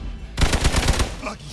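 Rapid burst of gunfire in the video game Marvel's Midnight Suns, a loud close volley of about eight quick shots after a short quiet lead-in.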